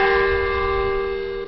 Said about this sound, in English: the church's bells do ring across the country